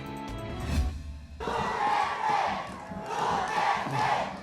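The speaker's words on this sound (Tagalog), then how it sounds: "Sinalubong ng hiyawan si Mayor Rodrigo Duterte nang dumating sa proclamation rally ng PDP laban sa Tondo." A crowd at a PDP-Laban proclamation rally in Tondo erupts into loud, sustained cheering and shouting as Rodrigo Duterte arrives, a swelling roar that rises and falls after a brief musical opening.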